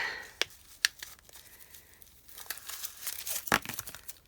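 Plastic wrapping is crinkled and torn away at close range, with sharp sporadic crackles and rustles, a few distinct snaps and a denser burst of crinkling toward the end, fairly quiet overall.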